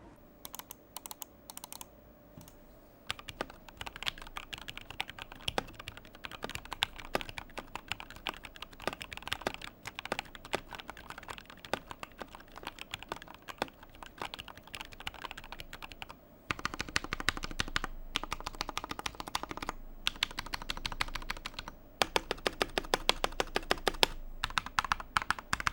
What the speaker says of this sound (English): Now let's move on to the typing sound test.